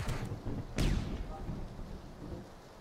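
A grenade explosion in PUBG, heard as a fairly distant, muffled boom with a sharp crack followed by a fading low rumble, quiet overall.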